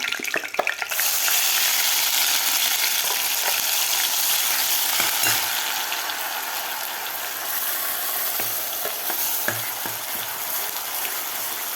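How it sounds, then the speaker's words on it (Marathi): Ground masala frying in hot oil in a kadhai for a spicy chicken rassa, with bay leaves in the pan, gives a steady, dense sizzle throughout, punctuated by scraping and stirring clicks close up, with no talk. "मसाला आपल्याला दोन ते तीन मिनिट व्यवस्थित परतून घ्यायचा आहे"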